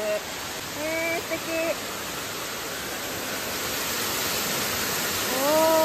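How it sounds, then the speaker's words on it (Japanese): A waterfall at a ramen restaurant styled like an old-fashioned inn with a large bath hisses as a steady, broad rush, while people talk briefly over it. "滝がある。"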